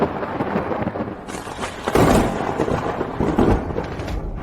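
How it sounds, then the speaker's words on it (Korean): A crash of thunder breaks in with a sudden broadband burst, then rolls on in a loud, rumbling wash with swelling surges toward the end, heard alone with no voices. "맙소사 천둥이 내리네."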